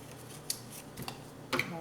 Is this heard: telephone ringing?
no